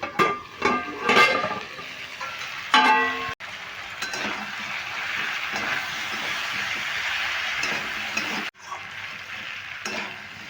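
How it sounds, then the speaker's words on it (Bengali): Papaya and potato curry with chana dal stir-frying in an open pan, with a steady loud sizzle and repeated scraping, clattering stirs. The sizzle breaks off briefly twice, then resumes. No voices. "এইভাবে আরও দু মিনিট আমি নেড়ে নেড়ে ভেজে নিচ্ছি"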